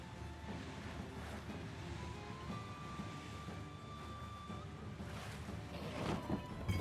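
Ocean waves and wind wash around a boat being sailed and rowed at sea in Wartales, a steady soft surf with a faint tonal game score, swelling slightly louder toward the end.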